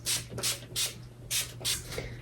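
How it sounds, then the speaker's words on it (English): A facial mist from a Sephora favorites kit, sprayed in five quick pumps, each a soft breathy hiss heard close up and fairly quiet, with short gaps between them. "so I just spray that"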